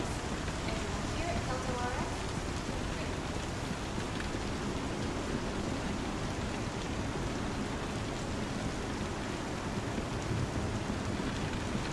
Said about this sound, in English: Like how I can still hear the rain in the hospital.